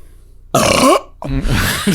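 Two loud, breathy burps in quick succession, the second one longer and rougher, with no talking around them.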